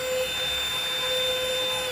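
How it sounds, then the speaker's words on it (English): A small handheld vacuum runs steadily while cleaning dust off an air purifier filter, a constant whirring motor drone with a high tonal whine, close and loud, with no talk. "You're going to take this vacuum and you're going to brush off the dirt off of this filter here."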